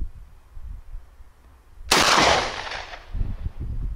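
A single sharp blast from a UTS-15 pump-action shotgun firing a ceramic slug cracks out loud and close, with a decaying echo and some rustling afterward.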